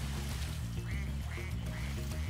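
Duck quacking in the Spyro Reignited Trilogy video game, three or four short quacks in a row over a loud, looping backing music track.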